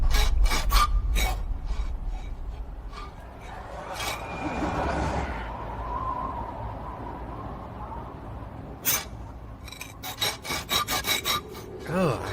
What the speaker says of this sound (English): I hate that scraping sound